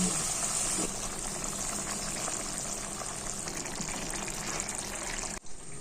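A little water is poured into a simmering ash gourd and coconut curry, a steady hiss and gush of liquid that holds for several seconds before stopping abruptly near the end.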